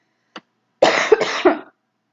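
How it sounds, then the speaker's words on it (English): A short throaty cough, then a longer burst of two or three rough coughs close by, with silence around them. "maybe I'm like coughing right now"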